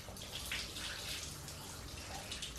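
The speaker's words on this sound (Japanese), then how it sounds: "背中にシャワーをかける。" A handheld shower sprays water onto a one-and-a-half-year-old child's back, a soft, steady hiss of spray heard quietly and continuously at close range.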